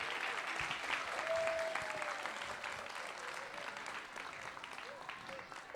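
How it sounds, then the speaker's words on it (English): A preschool concert audience claps for several seconds, a fairly soft and steady patter of many hands at a moderate distance that gradually thins toward the end. "One more big round of applause for our preschool community."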